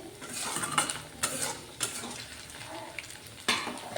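Soya chunk pakoras frying in oil, with a steady crackling sizzle broken by several sharp clinks and scrapes of a utensil against the pan, close and fairly quiet, with no talking.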